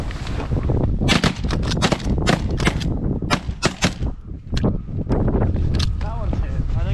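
Several loud, sharp shotgun blasts fired at geese during a duck and goose hunt, spaced irregularly across the clip, with hunters talking and laughing in between against outdoor wind.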